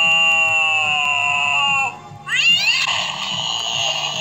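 A Halloween animatronic toy cat in a store gives out long, loud electronic meows with sliding pitch, one drawn-out cry followed by a second, wavering cry, close up and with no talking over it.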